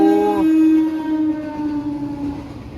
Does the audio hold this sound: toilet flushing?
no